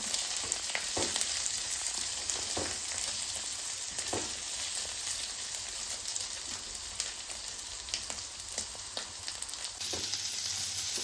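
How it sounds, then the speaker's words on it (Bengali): Potatoes with a little salt frying in a pan over raised flame for a vegetarian sabu khichuri, a dense continuous sizzle with scattered sharp crackles and pops, close and loud, no talk. "একটু আলুটা ভাজা ভাজা করে নেবো"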